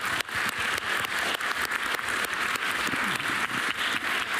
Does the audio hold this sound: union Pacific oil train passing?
no